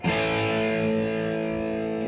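Electric guitar through an amp with light distortion rings out as one sustained chord, its gritty tone holding steady and slowly fading, with no talking over it.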